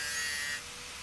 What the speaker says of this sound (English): I've just put an old sanding disc on to take the burrs off.